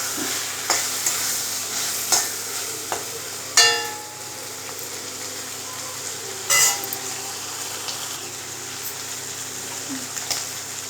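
Goat intestine fry, kudal varuval, stirred in a pan, a continuous sizzle broken by several sharp scraping clanks of a spatula against the metal, close and clear with no talk.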